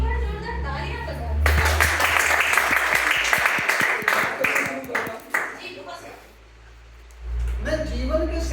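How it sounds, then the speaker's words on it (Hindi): Loud audience applause and clapping break out at a Hindi poetry or speech event, swelling to a dense roar and then thinning out before talk resumes. "एक बार जोरदार तालियां बजाओ।"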